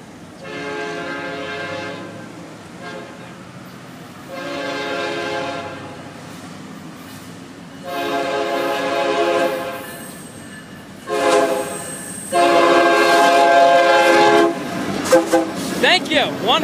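An FEC freight train, Train 202, passes at Gifford, sounding its horn in a loud, close pattern of long blasts, then a short one, then a final long blast, over rumbling rail noise.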